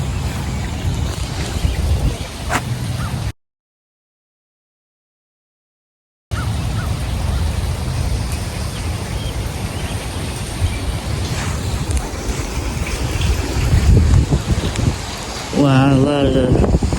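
Strong wind gusts and heavy rain roar as steady broadband noise outdoors near a tree with fallen branches, buffeting the microphone throughout, with a brief dropout and a rising whistling tone near the end.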